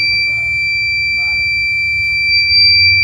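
The buzzer alarm of an Arduino-based BLDC motor controller sounds over-voltage protection as a loud, continuous, steady electronic tone, with faint background noise beneath it.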